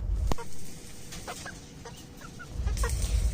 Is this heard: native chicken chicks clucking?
yes